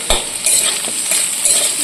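Turmeric, cumin and chili powder being stirred and sautéed in a pan, with close scraping and stirring strokes over a steady soft sizzle, no voices.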